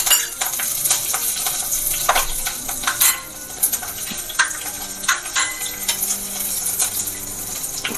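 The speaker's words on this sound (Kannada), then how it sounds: "ಇದೆಲ್ಲ ಸ್ವಲ್ಪ ಚಟಪಟ ಅಂತ ಬಂದಮೇಲೆ ನಾನು ಇಲ್ಲಿ ಹಸಿಮೆಣಸಿನ್ಕಾಯಿ ಹಾಕೋತಾ ಇದ್ದೀನಿ" Tempering spluttering and crackling in hot oil in a pan as green chillies are added, with cumin already in it: a dense, loud, close sizzle with sharp popping crackles and occasional clinks of a utensil, no talk.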